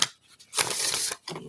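Tarot cards being shuffled by hand in a few quick riffling bursts, with a brief papery flutter, a longer dense rustle in the middle and a short final riffle, close and fairly loud with no talk.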